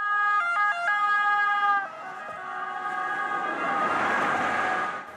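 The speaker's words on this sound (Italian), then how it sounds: "È il classico rumore della sirena che annuncia l'intervento del personale del 118." An Italian 118 emergency service ambulance siren in Calabria sounds its loud, steady two-tone pattern up close, then cuts off and gives way to a rougher, broader road and engine noise that swells and fades.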